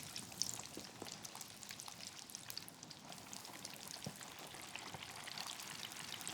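Chicken drumsticks and thighs frying in hot oil for soul food fried chicken: a quiet, continuous fine crackle and spatter of tiny pops, with no talking.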